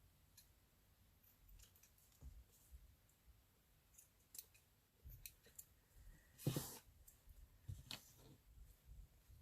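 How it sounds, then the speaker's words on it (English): Scissors snip through lace for a collage in a quiet craft setting, a few scattered, soft clicking cuts with one louder snip near the middle. "And let's trim off the lace."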